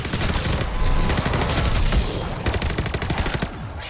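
Rapid automatic gunfire in Call of Duty: Vanguard Zombies, dense, loud continuous bursts with brief gaps, close and dominant with no talk over it.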